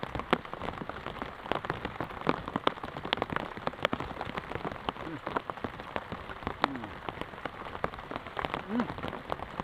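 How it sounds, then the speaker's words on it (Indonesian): Heavy rain pours down at an outdoor pond, drops pattering densely and unevenly on nearby surfaces and leaves, with faint voices now and then. "hujan turun lagi"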